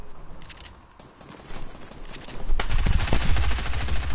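Video game gunfire, rapid shots building from scattered faint cracks into loud, dense close firing in the final seconds, with no talking.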